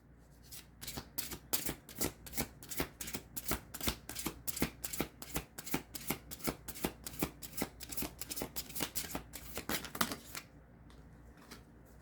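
Tarot cards being shuffled and drawn make a rapid, regular run of crisp riffling flicks, close and clear, ending with a few softer card sounds, no talk.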